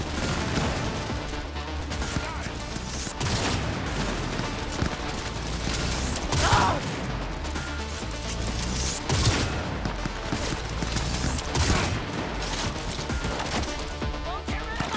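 Gunfire in Cyberpunk, with dense bursts and sharp shots cracking throughout a busy, loud game mix alongside other action noise.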